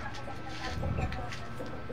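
Chickens cluck softly in a short burst of low, busy clucking close by, with no one talking.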